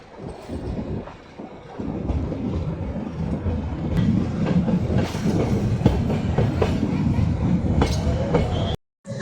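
A metre gauge passenger train rolls loudly between Junagadh and Chalala, heard from on board. There is steady clickety-clack from the wheels and a continuous rumble, ending in a sudden brief cut.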